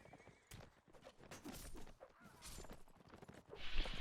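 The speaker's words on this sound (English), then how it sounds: "Peter's horse is running away from Vanadar" A horse in a strategy video game neighs and whinnies amid clip-clopping hooves, the calls rising clearly over a busy, fairly quiet game soundscape.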